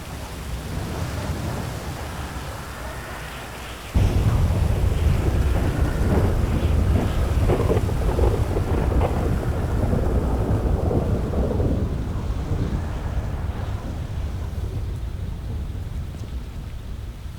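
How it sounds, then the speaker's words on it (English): Steady rain pours down with deep rolling thunder and wind buffeting the microphone, loud and continuous throughout. "Of course it's gonna start raining."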